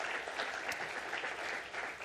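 Steady, dense applause from an audience at a talk, continuous and even throughout with no voices over it.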